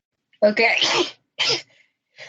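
A single sharp sneeze bursts out in a legislative session room, followed by a short spoken word and a faint trailing sound.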